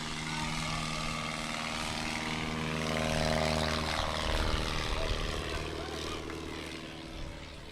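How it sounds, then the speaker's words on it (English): A Legend Cub light propeller aircraft drones steadily overhead at the Sun 'n Fun airshow in Florida, its engine pitch shifting as it passes, moderately loud and continuous under crowd noise. "Wisdom in the Legend Cub."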